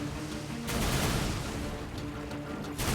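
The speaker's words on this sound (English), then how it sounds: "right trigger fires basically a shotgun burst" Shotgun-style burst fire in the video game Darksiders II: a dense, loud volley of crackling blasts starts after a brief lull and runs continuously to the end, with one short dip before it resumes.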